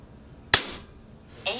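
A single sharp, close crack from a Kalibrgun Cricket PCP air rifle fitted with a power plenum, its report decaying quickly into a quiet room, followed by a faint electronic chirp.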